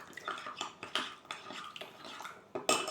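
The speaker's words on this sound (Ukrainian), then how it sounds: "Давайте спробуємо, розмішаємо. Так, я мішаю." A spoon stirs cocoa made from milk and a melted chocolate bar in a cup, giving a run of close, quick clinking scrapes against the sides with a brighter clink at the end.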